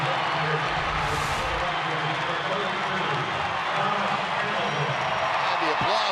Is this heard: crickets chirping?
no